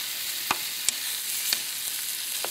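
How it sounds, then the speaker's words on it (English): Chicken pieces sear in a hot pan for a Thai green curry, giving a steady close sizzle with occasional scrape and clack of a utensil as they are stirred around. "We want to seal off this chicken so it all looks like this piece right on the outside."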